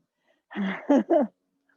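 A single sneeze during a yoga class, close and fairly loud, a sharp burst followed by a couple of quick voiced bursts, then quiet.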